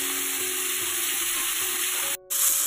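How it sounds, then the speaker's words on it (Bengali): Pieces of fish fry in mustard oil in a wok with a loud, constant sizzle and crackle that cuts out abruptly for a moment near the end, with no one speaking. "মাছগুলো এখানে ভাজা হচ্ছে"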